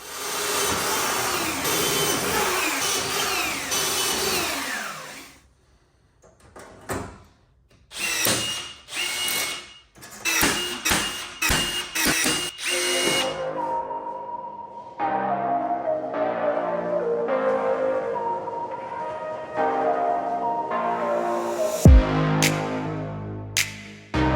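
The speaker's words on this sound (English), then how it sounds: "it's time to drill holes and throw in some rivets" Bursts of a power drill whine in short repeated runs with pauses between, followed by a longer steady tool drone and a few sharp metallic clunks, drilling holes and fitting rivets on Jeep TJ tube fenders and boat sides.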